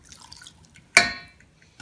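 Water for a frosting mixture of sugar and cream of tartar is poured into a saucepan in one short splash that fades quickly, with quiet kitchen background before and after.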